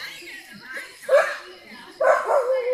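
A dog barks in two sharp bursts about a second apart at a house on a Kodagu coffee estate, fairly close, amid a quiet background.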